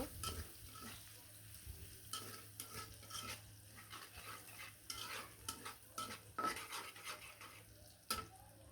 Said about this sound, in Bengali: এখন কুচি কুচি করা পেঁয়াজগুলো দিয়ে দেবো ভেজে রাখা তেলের মধ্যে